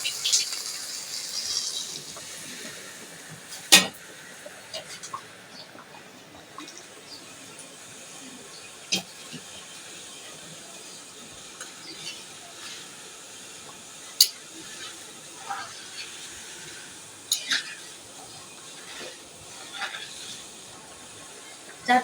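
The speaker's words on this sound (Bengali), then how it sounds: "আর এখন আমি গরম পানি দিয়ে দিচ্ছি।" Hot water poured into a pan of polao rice being fried for egg and prawn biryani, a steady steamy hiss with sharp clinks of a spoon against the pot and a few soft knocks scattered throughout.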